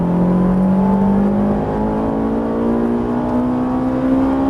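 A Ferrari 458 engine pulls hard at full throttle on the Circuit Haut Saintonge track, a loud, close, rising howl whose pitch climbs smoothly and steadily without a break.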